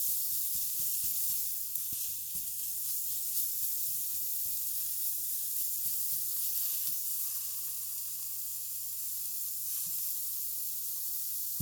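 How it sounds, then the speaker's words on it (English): Ground turkey for chili sizzles in a hot pan as a utensil breaks it up, giving a steady close frying hiss punctuated by repeated scraping and tapping strokes. "it's pretty easy to break up the ground turkey"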